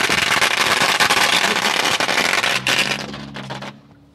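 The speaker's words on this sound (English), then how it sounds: "It's just firecrackers." Dense, loud burst of firecrackers popping and crackling continuously, thinning into scattered final cracks as a low hum emerges near the end.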